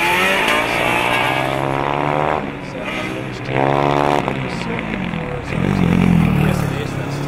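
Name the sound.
Formula Student race car driving on track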